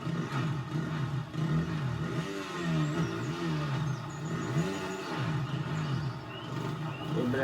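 A motocross bike engine in the MXGP 2020 video game revs and lugs in repeated throttle swells during first-person enduro riding, rising and falling pitch, fairly close and continuous.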